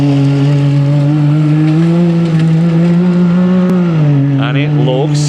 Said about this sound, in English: So it's a brand new Can-Am.